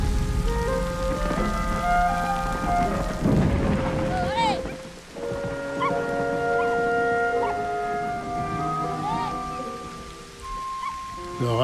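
Thunderstorm with heavy rain: a loud rolling thunder rumble early on over steady rain hiss, with music tones layered throughout.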